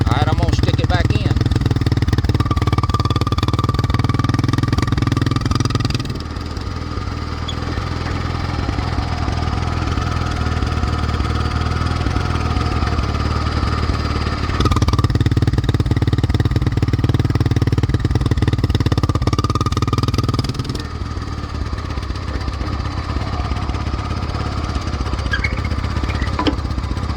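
ATV four-wheeler engine running steadily with a Cherry Bomb muffler, a loud continuous low drone that changes tone twice as the muffler is pulled out and put back in.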